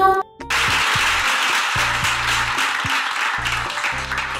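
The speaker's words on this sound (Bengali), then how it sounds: "জোরে হাততালি দাও সবাই কমলার জন্য" Sustained crowd clapping for the winner of a phuchka-eating contest who ate 25 phuchkas, a dense, loud burst of applause over low tonal sounds, in an animated children's story.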